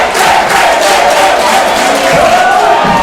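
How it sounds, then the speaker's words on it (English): A wrestling crowd cheers, shouts and claps at a live match between Farrenheight and Mitch The Kidd, a dense, loud roar of voices and hands that stays continuous for the whole stretch. "Clapping, getting the crowd back hyped up."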